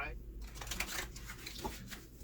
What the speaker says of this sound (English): I really love this riffle shuffle